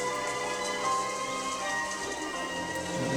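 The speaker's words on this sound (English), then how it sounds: "Oh, it's raining." Steady hissing rain falls in the Roller Coaster Tycoon 2 video game, a continuous even wash of sound under tonal background game music, with no talking.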